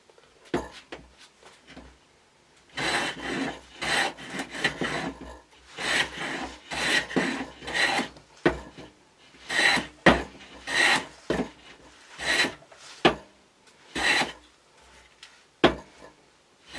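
Hand file rasping along the edges of a rosewood guitar bridge, irregular bursts of close scraping strokes separated by short pauses.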